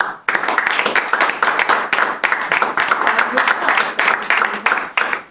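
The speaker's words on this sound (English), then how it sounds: "a huge round of applause for Angela" A crowd applauds at a Toastmasters club meeting, steady dense clapping that fills the room, loud and sustained for several seconds with no voices over it.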